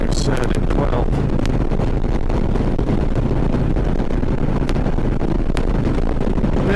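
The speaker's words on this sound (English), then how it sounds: "A little extra wind over normal interstate." Constant heavy wind roar buffets the microphone on a motorcycle ride along an interstate highway in strong 20 to 30 mph gusts, a dense unbroken rumble with occasional sharp clicks.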